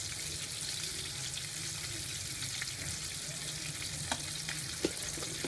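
Pork ribs fry with sugar in a hot pan for a sweet and sour dish, a steady close sizzle with faint stirring and a few sharp clicks, no talk.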